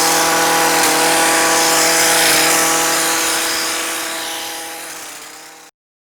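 Motorised hedge trimmer cutting a native hedge from raised extendable legs, a steady droning buzz with strong harmonic whine that runs continuously and fades slightly before stopping abruptly near the end.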